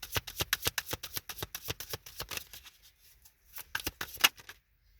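Tarot cards being shuffled by hand make a rapid run of crisp riffling flutters and snaps, followed by a brief pause and then a few more card slaps as cards are drawn, close and fairly quiet.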